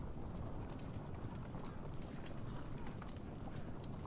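Horse hooves clip-clop steadily in Ultimate General: American Revolution, a continuous dense patter of cavalry moving at pace over a low rumbling game soundscape, with no one speaking.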